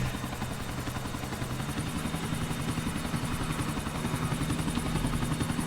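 Helicopter in the video game GTA IV, a loud, continuous rotor thump with engine whine, steady and close, alone without talk.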